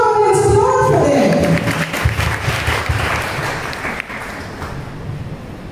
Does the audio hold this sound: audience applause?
yes